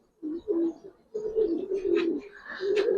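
Pigeons of a pair offered for sale cooing close by, low throaty coos in repeated phrases with short pauses and faint chirps above.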